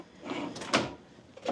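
Drawer in a 2024 Airstream Flying Cloud 25FB travel trailer sliding open or shut: a brief rolling slide followed by a soft knock, close and fairly quiet with no talk.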